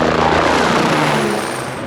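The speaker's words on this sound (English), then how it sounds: "you're gonna see a helicopter. He's gonna do a buzz by." A helicopter makes a low buzz-by pass, a loud close rotor roar that fades slightly as it moves off.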